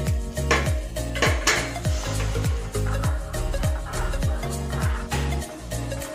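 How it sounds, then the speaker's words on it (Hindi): A spoon stirs buttermilk in a cooking pot for a village-style sweet potato curry, making rhythmic metallic scrapes and clinks against the pot, close and steady. "इस तरह से चम्मच को चलाते रहेंगे कि छाछ फट ना जाए।"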